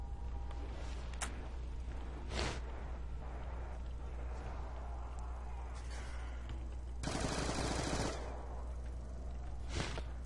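Submachine gun fire at zombies in the video game Die Rise, heard as several sharp bursts of differing length, including one long sustained volley, over a constant low game hum.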